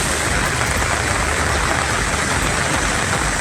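Heavy overnight rain pours down in Nagapattinam district, a constant dense hiss of falling drops, loud and unbroken across the whole stretch.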